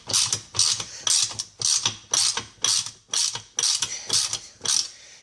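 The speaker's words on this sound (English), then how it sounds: "just tighten up one bolt, not completely tight, just enough to make it snug." A ratchet tightens the bolts holding a gasket on a plate, in about ten rapid rhythmic bursts of sharp clicking, close and clear, with brief pauses between strokes.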